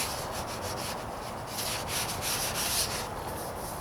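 Wet sanding the paint on a 1998 Toyota Corolla hood gives a steady, close, gritty rubbing hiss with a regular back-and-forth pulse throughout, with no voices.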